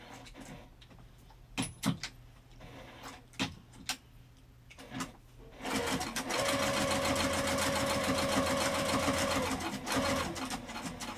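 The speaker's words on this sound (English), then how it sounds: "we'll top stitch this just 1/8 of an inch from the edge on both sides." Top stitching along the edge of a sling bag, a sewing machine starts up after a few handling knocks and clicks, then runs in a continuous close, rapid mechanical whir for several seconds.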